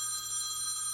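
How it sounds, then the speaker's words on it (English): A telephone rings with an incoming call, a faint, steady electronic tone heard alone for about a second. "Phone call."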